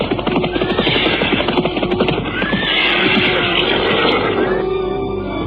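Horses ridden onward through the night, loud neighing and whinnying over a dense, continuous clatter of hooves, close and busy throughout.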